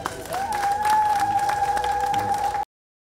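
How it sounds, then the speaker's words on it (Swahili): Applause from a gathered crowd at a stone unveiling ceremony, a dense burst of clapping lasting a couple of seconds over a sustained tone before cutting off abruptly. "Naomba makofi tafadhali"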